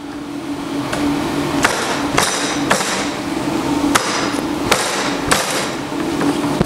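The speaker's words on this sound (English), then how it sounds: "Bring out the mallet." Mallet blows strike a go-kart steering wheel, a Birel AM29, to knock it loose: about eight sharp, loud, close impacts at irregular intervals over a steady background hum.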